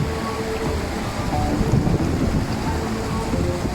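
A river rushing at a hiking crossing in the Drakensberg mountains, a steady broadband wash of flowing water that stays loud and close throughout with no talk over it.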